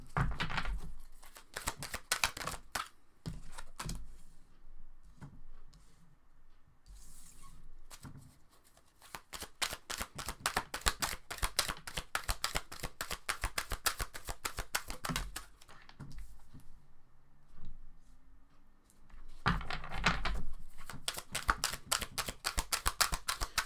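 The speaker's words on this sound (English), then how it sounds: "I'm also trying to shuffle as quickly as I can" A deck of tarot cards is shuffled quickly and repeatedly, crisp riffling bursts and taps in rapid runs with brief pauses between rounds, close to the microphone and with no talking.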